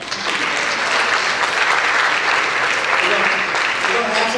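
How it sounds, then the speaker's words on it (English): Sustained, loud applause from a crowd at a community college unity program, steady clapping that fills the whole stretch without pause. "give me a better hand of applause than that"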